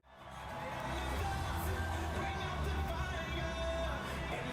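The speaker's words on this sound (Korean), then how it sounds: "학생들의 함성이 가득 울려 퍼진다" Students at a world camp gathering in a large exhibition hall in Busan raise a sustained, reverberant roar of cheering and shouting, steady and diffuse, with crowd noise filling the space throughout.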